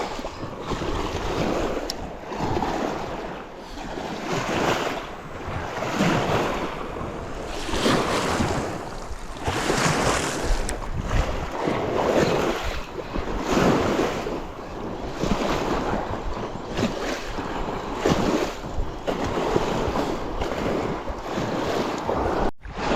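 Strong wind gusts by the water at Sioni while fishing on a windy day, with continuous roaring buffeting and microphone wind noise mixed with lapping waves, loud and steady with surging gusts throughout.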